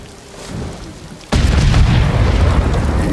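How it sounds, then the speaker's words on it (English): Fireworks bursting in the video game Ghost of Tsushima, a sudden loud boom that breaks out of quiet ambience and carries on as a dense, rumbling roar of blasts with no talk. "Fireworks! Fireworks, fireworks."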